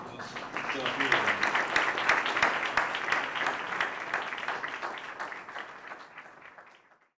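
Audience applause closes an evening panel discussion on a terminal-patient death-with-dignity bill, swelling quickly to a full patter, holding steady, then tapering off and fading to silence near the end.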